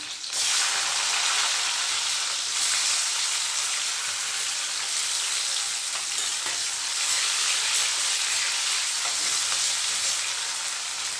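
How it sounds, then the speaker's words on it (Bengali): Slit green chillies and chopped tomato frying in hot oil, a loud, continuous close sizzle and hiss with faint crackles that holds steady throughout, no voices. "এই যে চেরা লঙ্কাগুলো দিয়ে দিচ্ছি তেলের মধ্যে, আর দিয়ে দিচ্ছি এই যে টমেটো কুচি"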